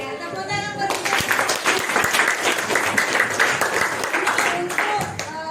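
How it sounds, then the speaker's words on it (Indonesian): A classroom of children claps for their teacher, a dense, loud burst of applause that starts abruptly after a brief voice and continues steadily for several seconds, with a few voices mixed in. "ya tepuk tangan buat ibu"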